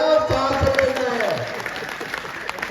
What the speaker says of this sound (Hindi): ताली बजाओ, सांस लेना है।